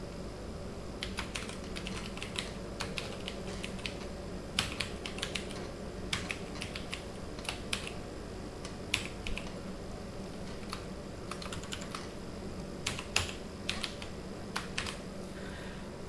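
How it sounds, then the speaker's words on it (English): Computer keyboard typing in a quiet room, irregular bursts of clicking keys with short pauses between runs, steady over a low background hum, no talking. "First I will type and then I will speak."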